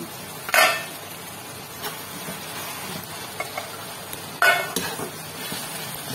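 Tomatoes sautéing in a pan for dried fish thokku, a soft steady sizzle with a couple of sharp clinks of a spoon against the pan, close and fairly quiet.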